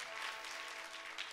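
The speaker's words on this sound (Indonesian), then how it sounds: "berikan tepuk tangan bagi nama Tuhan" Congregation at an evening worship service claps in praise, a steady wash of many hands applauding, moderately distant and fairly quiet.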